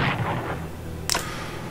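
French artillery fire in the WWI strategy game Strategic Command: WWI: a single sharp, brief boom cracks out over a quiet, low background hum, then fades quickly.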